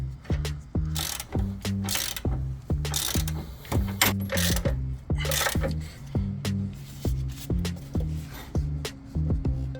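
A hand ratchet tightens bolts on a Jeep Wrangler LJ lift kit, clicking in quick, even bursts stroke after stroke, close and loud with short pauses between pulls.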